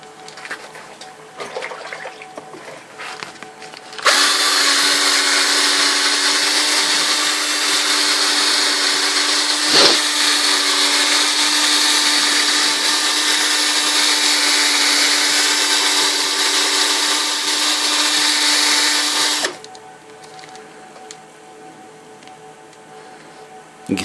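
A power sander works Nintendo arcade buttons with 1000 grit, starting abruptly after a few quiet seconds and running as a loud, steady, close-up whine with a brief bump midway, then cutting off near the end.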